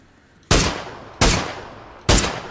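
Three loud, close single rifle shots in PUBG, fired about 0.8 seconds apart, each with a sharp crack and a short decaying tail, with no talking over them.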